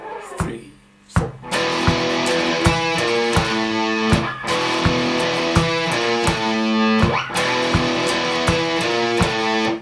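A distorted electric guitar plays a riff as two power chords with slight muting, a loud, chugging repeated pattern with sharp picked attacks and brief gaps between phrases.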